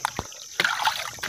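Fresh squid being washed in the water of Angat Dam, with short close splashes and sloshing, then a longer run of trickling, dribbling water between brief pauses.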